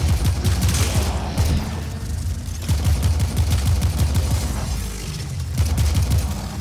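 Rapid bursts of spaceship weapon fire in the Warframe Archwing video game, loud repeated thudding shots in clustered volleys separated by short pauses.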